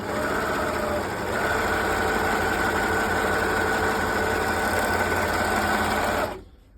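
A PFAFF admire 1000 overlock sewing machine runs at a steady fast whir, loud and close, with a constant high mechanical hum, then stops abruptly near the end.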